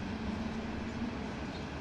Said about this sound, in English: From here, we saw this coal train rumble through town.